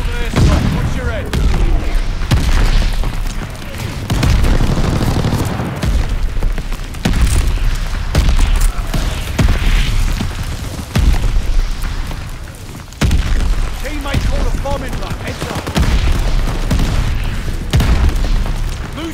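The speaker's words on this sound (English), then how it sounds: "Allies called an airstrike." An airstrike in a war video game brings a dense, continuous barrage of loud booming explosions and bursts layered over each other throughout, with radio-style voices talking in between.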